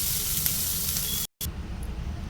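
Pieces of ivy gourd fry in a pan for chutney, a steady hissing sizzle that drops out for a moment before resuming.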